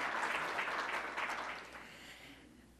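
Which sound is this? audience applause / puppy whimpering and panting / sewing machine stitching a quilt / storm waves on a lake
audience applause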